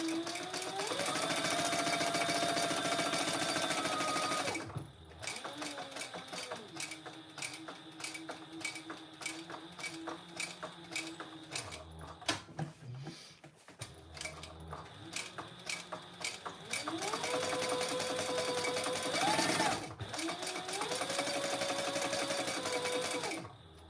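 A sewing machine stitches around the overlay on a bag. It runs in long continuous bursts, loud and close, and slows and pauses a few times in the middle.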